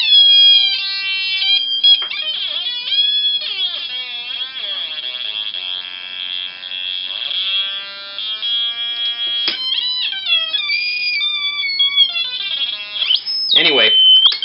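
A homemade theremin-style synth circuit built around a 555 timer gives an electronic square-wave tone that sweeps and warbles in pitch, dipping low near the end into a buzzy, Atari-like growl, continuous and close.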